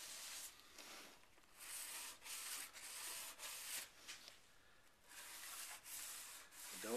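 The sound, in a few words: rubbing out a lacquer finish on a wooden routered profile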